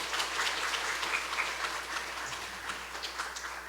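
A church congregation claps warmly to welcome and bless a new pastor arriving with his family, a steady dense patter of many hands filling the room with no speech over it.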